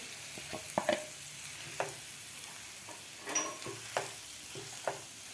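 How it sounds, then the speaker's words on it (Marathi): Boiled potatoes stirred into fried masala in a pan, soft sizzling with a handful of scraping spoon strokes against the pan. "बटाटेसुद्धा आपल्याला व्यवस्थित ह्या मसाल्यामध्ये मिक्स करून घ्यायचे आहेत"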